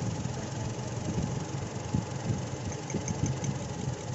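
A Toyota Innova with a 1TR engine running during a misfire test, a steady close idle rumble with low uneven pulsing and vibration, no talk.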